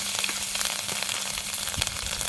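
Chilies, asafoetida and turmeric sizzle in a hot buttermilk tempering, a steady loud frying hiss with small crackles throughout, no voices.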